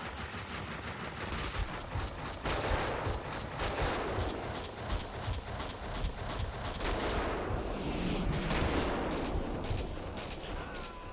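Dense game gunfire and booming shots from Max Payne 2: The Fall of Max Payne fill the whole stretch, loud and continuous with rapid repeated reports and no voices.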